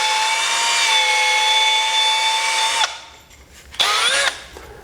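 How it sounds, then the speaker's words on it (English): A cordless drill spins a rusty engine valve against a polishing pad, a loud, steady high whine that stops for about a second before a brief second burst, close by and with no talking. "insert it into the cordless drill and chuck it up"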